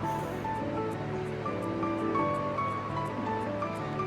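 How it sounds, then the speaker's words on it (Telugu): Leafy greens sizzling in hot oil in a pan for a mango and greens dal, a steady, even frying hiss that stays close and unbroken throughout. "ఆయిల్లో వేసుకొని కొంచెం 2-3 మినిట్స్ అలా ఫ్రై చేస్తూ ఉండాలి."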